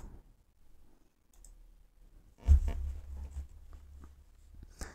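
Computer mouse clicks while downloading and opening a file on a Windows PC, a few faint clicks followed by a louder cluster of close taps and a thump.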